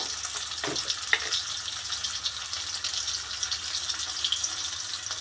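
Turmeric and chili powder go into a pan where onions are frying, producing a steady, close sizzle with faint stirring scrapes and a brief clink, continuous throughout with no talking.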